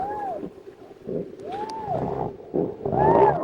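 Fictional gannet whales, huge ungainly birds three meters long hauled out on an ice-fringed summer beach, give a series of rising-and-falling moaning calls, some overlapping, loud and close against a low rumbling background.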